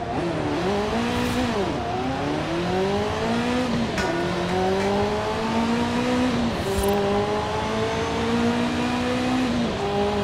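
Ferrari F40 Competizione engine in Forza Horizon 5, driving on a rainy highway at high speed: a loud, continuous revving engine with rising and falling pitch through gear shifts, steady and close throughout.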